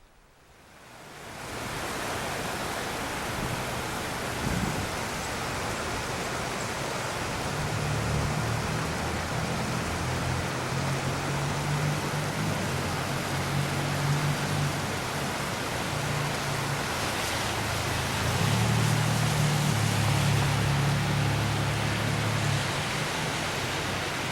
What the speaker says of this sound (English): Oh, we got some rain action.